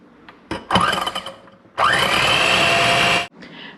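An electric hand mixer beats egg whites for chiles rellenos batter in short bursts, with a brief whirring start, a pause, then a longer steady high whine before cutting off.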